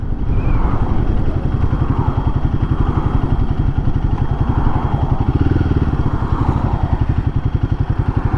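A Royal Enfield Guerrilla 450 motorcycle rides over road rumble strips, giving a loud, fast, even drumming pulse through the engine drone that runs nonstop from start to finish.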